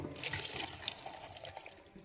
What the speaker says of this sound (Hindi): अब इसको ब्लेंड करने के लिए हम डालेंगे पानी।